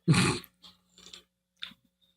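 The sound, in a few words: dog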